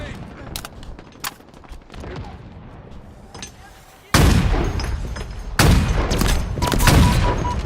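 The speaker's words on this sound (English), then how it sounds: "Tossing a nade." Gunfire crackles in a PvP video game: scattered shots at first, then a grenade detonates with a loud burst, followed by heavier, sustained bursts of fire and another blast, all close and dense.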